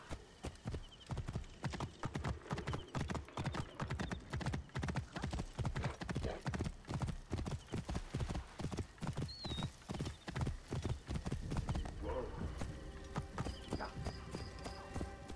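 Horse hooves gallop in Assassin's Creed Origins, a fast, steady run of clip-clop beats that keeps going for about fifteen seconds, with a brief whinny and some faint game sounds.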